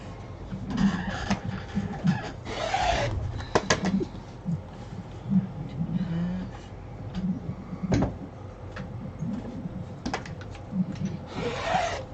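Quilt fabric being cut into 4.5-inch strips for a Broken Dishes quilt: close, repeated scraping and rubbing strokes with soft thuds, in an irregular rhythm and with no talking.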